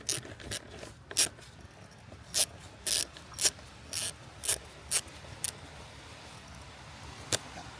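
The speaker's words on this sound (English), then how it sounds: "So use the socket instead of the flathead screwdriver." A ratchet and socket loosens a fitting on a Ford Transit Connect: a series of short, crisp metallic clicking bursts in an uneven rhythm, close by and fairly loud, with no talk.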